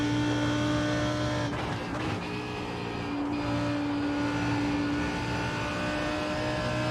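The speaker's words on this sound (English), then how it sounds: "There's a group of faster cars behind." Faster race cars in an iRacing IMSA session at Road Atlanta pass by, a continuous loud engine roar with steady tonal whine, briefly shifting as cars go past.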